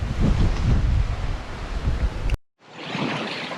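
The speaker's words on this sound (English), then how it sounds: "Very very choppy waterfalls down there." Rushing, turbulent water from choppy waterfalls on the Old Man of Coniston in the Lake District roars continuously and loudly, cuts out abruptly for a moment, then returns slightly thinner and hissier.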